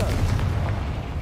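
Confringo spell explosion in the Hogwarts Legacy video game, a single loud, deep, booming blast with a rumbling low-end tail lasting about a second.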